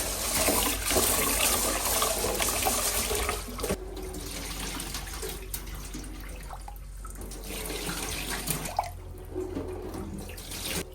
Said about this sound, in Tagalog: Hugasan natin to until mawala yung gano'n, yung mga lumulutang-lutang na yan.